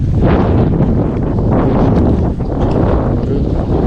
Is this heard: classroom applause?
no